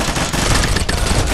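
Rapid gunfire from a mobile shooter video game, a loud, dense stream of shots filling the entire brief moment with no pauses.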